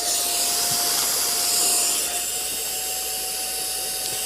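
An electric vacuum pump sucks air out of a storage bag, a steady, loud motor whine with airy hiss running continuously throughout, swelling slightly midway.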